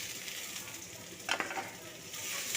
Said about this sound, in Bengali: এরপরে দিয়ে দিচ্ছি আমি সেদ্ধ করে রাখা শাক